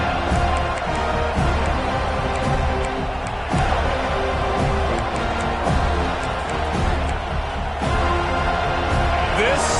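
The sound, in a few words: crowd cheering in College Football 25 video game stadium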